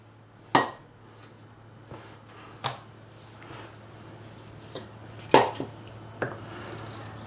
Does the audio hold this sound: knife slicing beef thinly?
yes